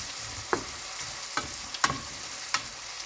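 Spaghetti frying in oil with onions, a continuous soft sizzle broken by several sharp scrapes of a utensil against the pan at irregular intervals, no talk.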